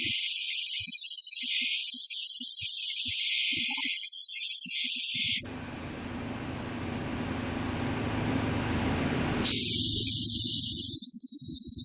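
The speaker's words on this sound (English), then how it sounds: "take out our wafer sample and use the nitrogen gun" A nitrogen gun blasts a steady, loud hiss of gas over a semiconductor wafer sample for several seconds, starting and stopping abruptly amid broadband background noise.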